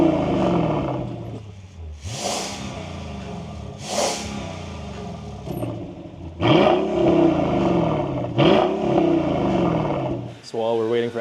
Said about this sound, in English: here's my valved exhaust